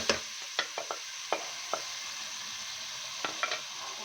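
Cumin, crushed chili and nigella seeds frying in a pan give a soft, steady sizzle broken by a handful of light spoon taps and stirs, close and quiet, with no talking.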